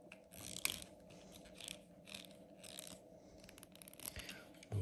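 A screw being driven by hand into a plastic part of a scale model of the KITT car from Knight Rider, faint close-up clicking and ratcheting turns repeated in quick succession.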